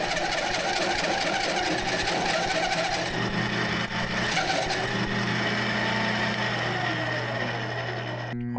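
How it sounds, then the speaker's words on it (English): A power drill bores through the steel wall of a shipping container to cut a vent, a loud continuous whining grind with rattling metal resonance, close and steady throughout, with the pitch shifting partway as the bit works. "Let's start drilling."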